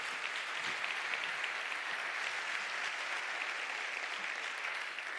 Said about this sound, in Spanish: Ahí está, fuerte el aplauso.